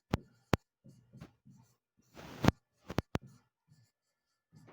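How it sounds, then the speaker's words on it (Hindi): Pen writing on a board or paper during a history lecture, a series of short scratchy strokes in irregular bursts with one longer scribble, close and fairly quiet, no talk. "जैसे इसकी अगर शुरुआत करनी हो तो हम लिखेंगे कि अशोक की ख्याति"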